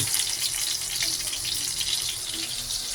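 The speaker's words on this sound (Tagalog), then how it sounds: "So, igigisa na natin ito." Garlic sautéing in a pan while a Filipino mung bean topping is cooked: a continuous bright sizzle and crackle at close range, with no talking.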